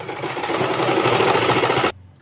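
A sewing machine runs a steady, fast stitching burst through trouser fabric for about two seconds, close and loud, then stops abruptly.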